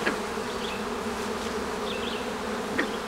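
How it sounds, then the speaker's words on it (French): Dense, steady buzzing of many honey bees moved from one hive colony to another during a colony split, a continuous close drone with faint higher whines drifting through. "On transfère les abeilles."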